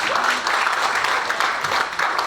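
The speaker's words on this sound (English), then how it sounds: "give this beautiful lady a big round of applause" An audience gives a woman a round of applause, a dense continuous wash of clapping heard close and fairly loud for a couple of seconds, with no speech.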